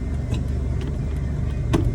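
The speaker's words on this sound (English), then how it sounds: "So when you change the gear, sound will come." Car interior with steady low engine rumble and a couple of brief clunks as the gear lever is shifted into reverse during a driving lesson, close and fairly loud.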